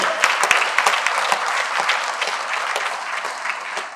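Audience in a hall at a Trichy business event applauds steadily, many hands clapping in a dense, sustained burst with sharp individual claps standing out near the start, no talk over it.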